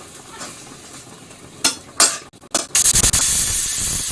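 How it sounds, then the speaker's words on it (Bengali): Potato and papaya pieces hit hot oil in a pan. A few loud clanks of a utensil come first, then a bright, loud sizzle bursts up and carries on steadily up close. "তেলে আলু পেঁপে ফ্রাই করতে দিয়ে দিয়েছি"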